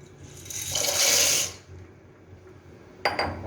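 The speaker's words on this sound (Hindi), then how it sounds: "अब इसके अंदर मैकरोनी ऐड करेंगे" Dry macaroni pours into a pot of boiling water in a home kitchen, giving a rushing hiss that swells then fades, followed by a short clatter near the end.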